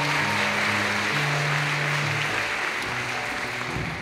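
Audience applause at a high school choral holiday concert, a steady wash of clapping that holds throughout, with a low sustained hum of tones underneath.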